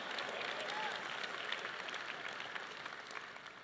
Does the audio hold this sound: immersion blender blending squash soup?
no